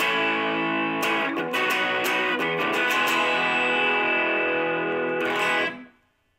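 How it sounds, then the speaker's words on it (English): Distorted electric guitar chords ring out loud and continuous, with sharp bright strums in the first half, a final struck chord, then a quick fade to silence; no talking. "You can also add some distortion."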